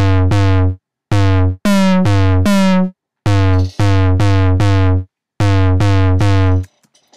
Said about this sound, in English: we're making a kick drum sound and then throwing distortion on it